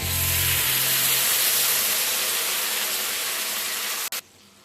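Ground spice paste hits a hot pan for a spicy drumstick and potato curry, raising a loud, continuous spray-like sizzle that holds steady, then cuts off abruptly near the end to a faint hush.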